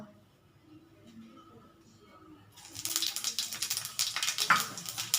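Panch phoron seeds hit hot oil in a wok partway through, bursting into a loud, crackling sizzle with spattering pops; a voice speaks over the quieter opening before the sizzle takes over.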